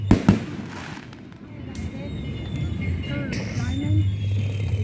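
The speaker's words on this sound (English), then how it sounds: "There goes my fireworks." Fireworks bursting outdoors, a couple of sharp loud pops at the start followed by a steady crackling, rumbling backdrop, with people talking and exclaiming over it.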